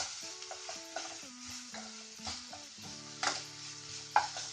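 Grated carrots with salt fry in a pan for a carrot raita, heard as faint, soft sizzling with intermittent scraping and stirring clinks and a low steady tonal hum underneath.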